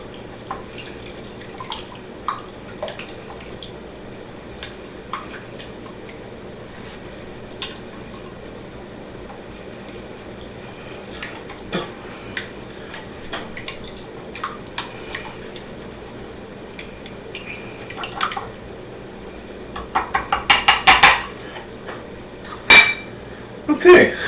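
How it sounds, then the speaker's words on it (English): Eggs and olive oil are whisked together in a bowl, the whisk making light clinks and taps that start sparse and grow into a quick, rattling run of metal against the bowl near the end, with no talk. "Put in our olive oil. And now let's whisk it together."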